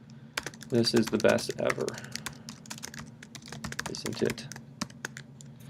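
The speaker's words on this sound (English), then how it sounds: "this is like Pico where I can just start typing" Fast, steady typing on a computer keyboard while editing a file in the Pico text editor, close and crisp, running under a voice speaking briefly early on.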